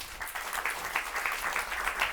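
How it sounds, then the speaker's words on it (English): A conference audience at a Climate Week event applauds to welcome the Whole Foods Market CEO, a dense, even wash of clapping that holds steady throughout. "please give him a round of applause"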